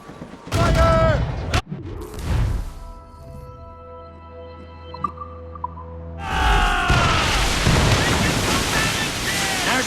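Ship cannons fire in the naval combat of Assassin's Creed Rogue, with loud booming blasts over sea and wind noise, a quieter lull, then another roaring barrage.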